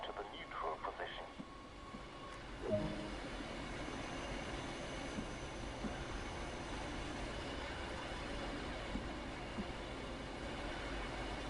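A train unit rolls along in the video game Train Sim World 2020, with a steady broadband rumble and track noise throughout and a brief thump near the start.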